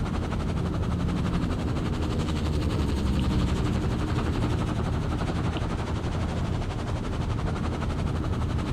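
A small plane strains to take off in the game Firewatch, its engine giving a continuous, loud, rattling buzz that holds steady with no voices over it.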